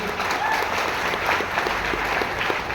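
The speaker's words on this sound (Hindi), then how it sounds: "आज हमारे सिटी लीडर मिस्टर चेतन मंडल सर के लिए जोरदार तालियां होना चाहिए" Audience applause at a gathering honoring a city leader, dense steady clapping that holds at an even, fairly loud level throughout, with faint crowd murmur and no clear speech on top.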